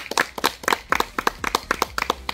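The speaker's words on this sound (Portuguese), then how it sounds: "uma salva de palmas pra ela" A small group claps for a woman being honored at a home surprise, with distinct, close, uneven hand claps in a quick rhythm and no talk.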